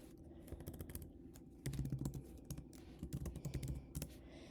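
Fingers tap out a name on a computer keyboard in a quiet room, a close, light patter of irregular clicks in short bursts with brief pauses between them.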